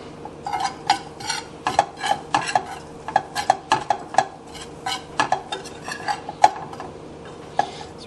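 Flour and butter cooking together in a pan over medium heat, stirred with a utensil that taps and scrapes the metal in quick irregular strokes over a soft low sizzle, close up and without talk.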